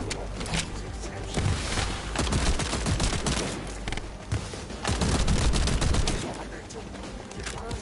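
Rapid, sustained gunfire in the video game The First Descendant, dense automatic bursts and impacts layered continuously throughout, loud and busy, with a voice talking at times underneath.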